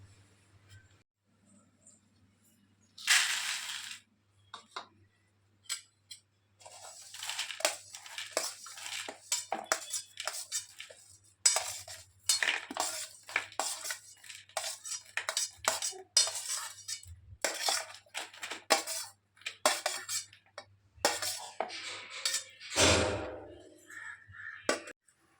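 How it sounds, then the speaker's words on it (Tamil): Roasted poha, peanuts and vegetables mixed together in a bowl, with a run of close spoon clinks and scrapes against the dish, some sharper knocks, and a faint steady hum underneath. "இப்போ இது எல்லாத்தையும் நம்ம ஒரே பவுலில் மிக்ஸ் பண்ணலாம்."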